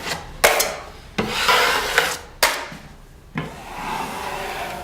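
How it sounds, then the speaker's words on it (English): A drywall knife drags firmly along taped joints to scrape off excess joint compound, giving four separate scraping strokes, each starting with a sharp onset and then fading, close and distinct, with no talking. "Putting quite a bit of pressure on it, cleaning off the joint compound so that I don't have an excess amount still along the edge."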